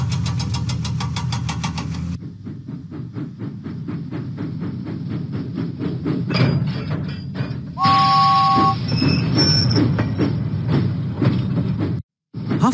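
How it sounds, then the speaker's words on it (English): A cartoon steam engine from Thomas and Friends chuffs in a fast, rhythmic series of puffs, then rumbles on with a short two-tone whistle partway through, loud and close with no talking. "Huffing and puffing, James set out for Whiff's waste dump."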